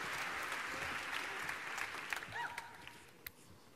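Applause from an audience at a university's 2018 closing ceremony, fairly faint and distant, steady and dense for a few seconds while a voice talks over it.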